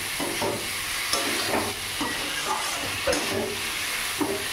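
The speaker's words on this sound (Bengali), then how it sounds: "লতিটা দিয়ে একটু ভালো করে নাড়িয়ে চাড়িয়ে নিই, মিশিয়ে দিয়ে এটাকে।" Taro stolons being stirred and fried in a pan, a continuous sizzling hiss with repeated scraping strokes of a spoon against the pan in a loose rhythm.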